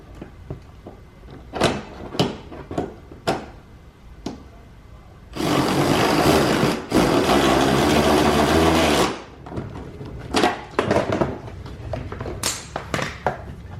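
A number 10 bolt is driven tight with a power tool in one continuous burst of about three seconds, bracketed by scattered knocks and clicks of handling parts before and after.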